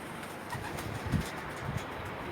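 Homing pigeons kept by a bird breeder cooing softly, a couple of low murmuring coos over a constant rustling background, close but faint.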